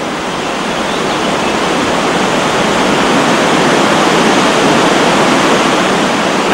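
An Alpine waterfall roars in a loud, unbroken rush of white noise that stays steady throughout, with no voices.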